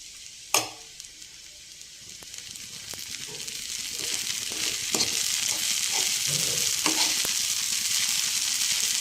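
Poha mixed with other ingredients frying in a hot pan, a steady bright sizzle throughout with repeated scraping stirs of a spoon, and a sharp knock near the start.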